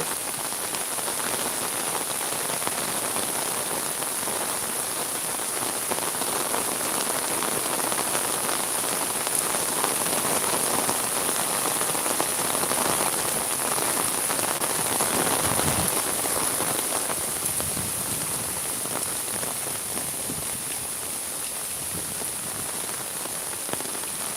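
Heavy rain pours down steadily on a village in Sylhet, a dense, even roar of drops hitting surfaces that holds loud and constant throughout, with no voices.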